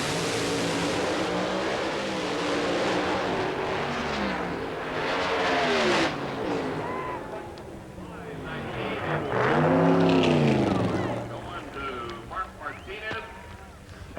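An Alcohol Funny Car makes a drag race run, a loud roaring engine building and sweeping past with a doppler rise and fall, followed by a second pass, with a commentator talking throughout.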